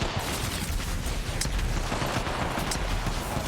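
Dense, continuous gunfire from a fight in the Apex Legends battle royale game during an ALGS competitive match, a loud sustained barrage of rapid shots with bursts and impacts and no pauses.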